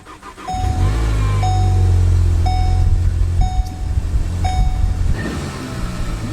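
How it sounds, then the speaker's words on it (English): A stock Volkswagen Golf R cranks and fires up cold, then settles into a loud, steady idle, with a repeating chime sounding at regular intervals in the background. "So let's fire up the car."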